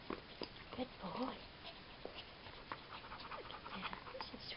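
A dog pants in short, quick breaths close by, with brief whimpers mixed in, while a person talks over it now and then.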